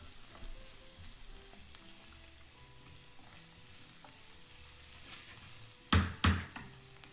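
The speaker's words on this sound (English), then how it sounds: "Fry the pork for 4 or 5 minutes." Pork sears in a pan with a faint, steady sizzle, punctuated near the end by a couple of louder stirring scrapes and spatters.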